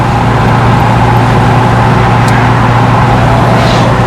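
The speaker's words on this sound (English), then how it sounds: "Car drives really good. It tracks really straight. It doesn't vibrate." A 1977 Pontiac Trans Am with a 455 engine cruising down the road, its steady engine drone and road roar loud and constant throughout, with no voices.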